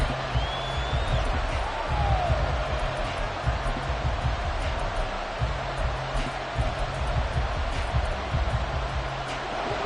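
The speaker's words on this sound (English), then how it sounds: "the crowd here at MetLife Stadium in full roar" Stadium crowd at MetLife Stadium in a Madden football video game, a steady dense roar of cheering that holds at a loud level for the full stretch, with no commentary over it.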